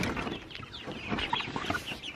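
Chickens cluck softly in a cluster of close, overlapping calls inside a greenhouse-style growing structure, with a quiet hum of barn noise underneath.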